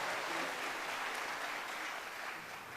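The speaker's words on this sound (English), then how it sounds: "One more round of applause, please." Steady crowd applause at a mariachi performance, a dense continuous patter of many hands clapping at moderate distance, holding evenly throughout with no speech over it.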